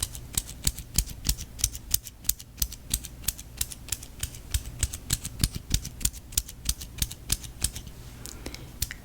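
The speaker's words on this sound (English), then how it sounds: "I hear the pencil clicking." A mechanical pencil clicking in soft-spoken ASMR style, a quick steady run of many crisp, close, quiet clicks with no talking.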